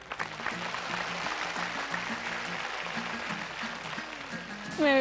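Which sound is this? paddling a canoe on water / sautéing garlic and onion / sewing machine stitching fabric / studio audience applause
studio audience applause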